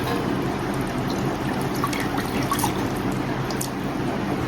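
Water poured into a mixer jar holding spinach before grinding for palak paneer: a steady close trickle and splash running without a break, with no voices over it.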